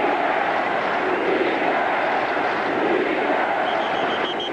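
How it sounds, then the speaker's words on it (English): Football stadium crowd at a 1984 Bengals at 49ers game, a broad steady roar of many voices, loud and continuous with no breaks. "Hear the crowd."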